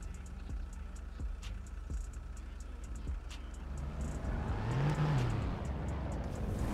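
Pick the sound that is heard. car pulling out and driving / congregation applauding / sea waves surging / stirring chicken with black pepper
car pulling out and driving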